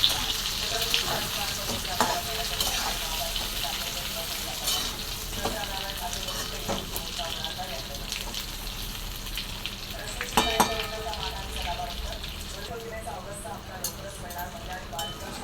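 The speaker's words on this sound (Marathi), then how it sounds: "मी बघा असं थोडंसं हे करणार आपण परतून घेणारे वांगे" Brinjal sautéed in a pan gives a steady soft sizzle with scattered scraping stir sounds and occasional clinks, fairly quiet throughout.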